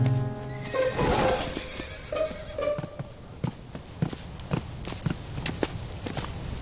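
A horse whinnies loudly with a shaky, descending neigh, followed by scattered hoof clops and footsteps fading into the background.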